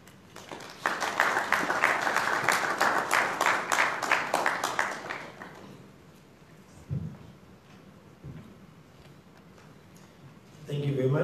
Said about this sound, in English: Another round of applause, ladies and gentlemen, for Ms. Andrew.